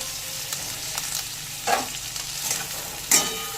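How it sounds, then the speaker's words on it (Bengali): Onion, potato and eggplant fry in a pan for a mourala fish curry, a soft steady sizzle broken by two or three louder stirring scrapes, close and with no voices. "আলু বেগুন একটু নেড়েচেড়ে এর সাথে সামান্য একটু ভেজে নেব"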